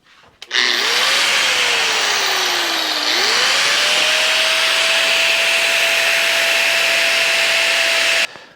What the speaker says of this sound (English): But what I'm going to use is a grinder with a cutting blade.